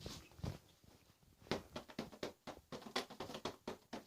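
A cushion struck with a bodhran beater gives a series of soft, muffled thumps in an irregular rhythm, fairly quiet and close, with no talking.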